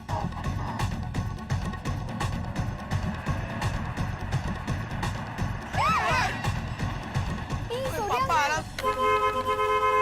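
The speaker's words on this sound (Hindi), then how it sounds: "अरे हॉर्न बंद करो, कौन है?" A faulty car horn blares in repeated honks, then sounds nearly continuously toward the end, loud over a busy background of voices and street noise.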